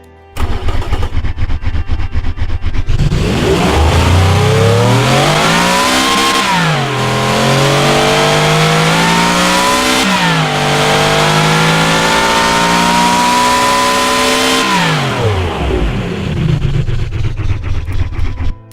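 A turbocharged V16 hypercar engine starts and revs hard, loud and close. It holds a high, rising and falling roar through several throttle swells before dropping back to idle.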